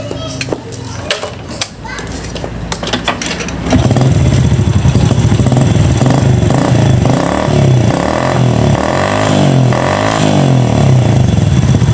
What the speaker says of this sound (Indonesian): motor ini gampang nyalanya